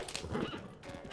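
A horse in Zelda: Tears of the Kingdom gives a short whinny over faint hoof clip-clops, fairly close and clear, lasting about a second.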